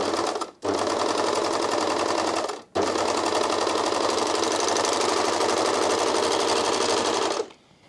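A Janome 2000D Airthreader serger sewing a rolled hem runs fast and loud in three long bursts, broken by two short stops, before cutting off at the end.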